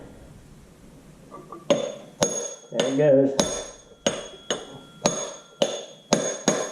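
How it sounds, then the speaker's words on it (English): A hammer drives a steel drift pin into the PTO drive gear of an IHC Farmall Super MTA tractor: about eight sharp, ringing metallic strikes in a steady rhythm, close and loud, with a brief spoken remark midway. "I use a drift pin and a hammer to start pounding it in."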